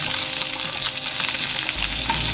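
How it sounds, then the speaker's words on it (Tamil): Ginger, green chili and curry leaves sauté in hot oil, a loud, continuous crackling sizzle close up, with a low thump as they are stirred near the end. "நல்லா வதக்கிக்குவோம்."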